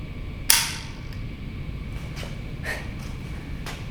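A single sharp shot from an Uberti 1847 Colt Walker revolver chambered in .45 Colt cracks out once near the start, followed by faint clicks and light handling noises.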